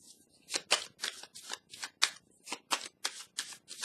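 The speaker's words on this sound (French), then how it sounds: "Je vais piger une petite carte ici." A tarot card is drawn from a deck, giving a steady series of crisp card-handling snaps and shuffling swishes, close and fairly loud, with no voice over them.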